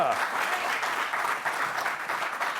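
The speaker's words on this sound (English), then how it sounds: "Now these sleepyheads are clapping." Studio audience applause from a late-night political comedy panel show, dense steady clapping throughout with crowd noise, loud and continuous with no speech over it.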